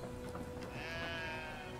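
Sheep bleating in the Brothers: A Tale of Two Sons video game, a single drawn-out wavering bleat rising over steady in-game ambience, fairly faint and without talk.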